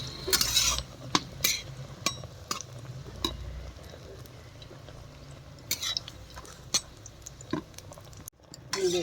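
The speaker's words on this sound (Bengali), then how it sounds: "অল্প তেলের মধ্যে দেখুন কত সুন্দর আমি গোল গোল করে বেগুনি ভাজছি" Eggplant fritters (begun chop, round pakoras) frying in a little oil in a pan, with a steady low sizzle broken by scattered clinks and scrapes of a utensil against the pan.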